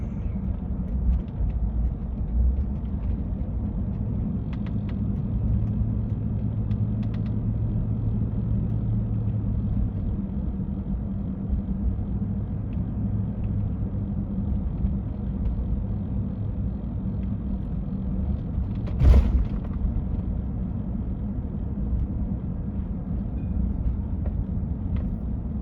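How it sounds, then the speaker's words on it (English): Road traffic on a mountain highway, a continuous low rumble of passing vehicles with one brief sharper noise partway through, heard from a distance without talk. "More traffic up here today than I thought there might be."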